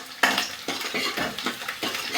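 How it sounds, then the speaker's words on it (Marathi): A spoon stirring chopped onion in a metal pan for a Marathi dhemse bhaji, with repeated scraping strokes against the pan over a faint sizzle, close and moderately loud, no voices. "कांदा हलवून घ्यायचा."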